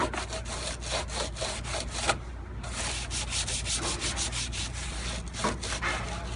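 Scrubbing built-up grime off a metal part in a commercial kitchen, a fast rhythmic scouring rasp of back-and-forth strokes, close and steady, with one brief pause.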